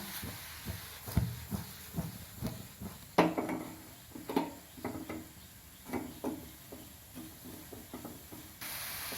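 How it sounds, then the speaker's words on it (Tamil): A pot of sprouted green gram simmers with soft bubbling and hissing, broken by a series of sharp clicks and knocks, like a spoon scraping and tapping the pan. "இப்போ லேசாக கொதிக்க விட்டுக்கலாம்"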